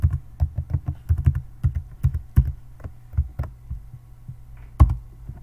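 Someone types a login ID and password on a computer keyboard, producing a fast run of close, crisp key clicks that slows into sparser presses, ending with one louder keystroke.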